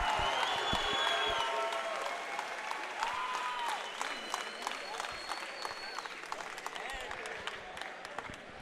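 Steady applause from a large crowd at an MMA event fills the space, with scattered cheers and whistles and voices audible underneath throughout.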